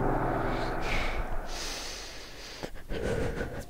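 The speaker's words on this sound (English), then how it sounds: "Sorry, I'm breathing a lot." Heavy breathing lands right on a microphone as a player narrates a game session, a few loud close snorting breaths and sharp gasps with short gaps between them.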